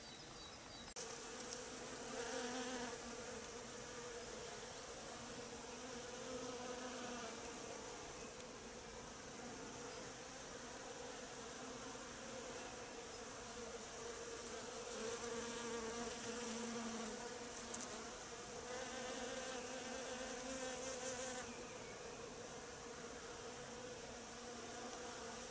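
Honeybees buzzing busily around a hive in winter in Haute-Loire, foraging hazel pollen, a dense continuous drone of many wings close by, fairly quiet and with no voices.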